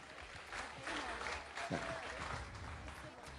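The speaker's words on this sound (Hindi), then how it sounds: "इनके लिए बहुत सारी तालियां" Studio audience applause on a television iftar show, steady clapping at a moderate level lasting a few seconds.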